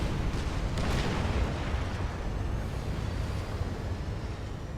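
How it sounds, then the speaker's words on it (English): Lobo artillery fire and explosions in the real-time strategy game Supreme Commander form a dense, continuous rumble of booms throughout, loud and steady with no distinct gaps, and no voice over it. "A little bit of an exchange of Lobo fire."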